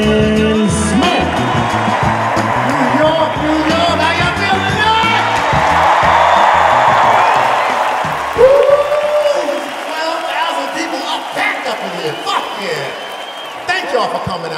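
A large crowd at Madison Square Garden claps, whoops and cheers loudly for a comedian at a standup comedy show, a dense, sustained wave of applause that tapers off as he starts speaking.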